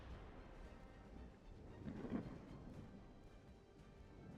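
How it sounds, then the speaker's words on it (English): Low, steady rumble of rain and thunderstorm in the naval video game Ultimate Admiral Dreadnoughts, faint throughout with a soft thunder swell in the middle, and no talk over it. "get me out of this fucking rain and storm"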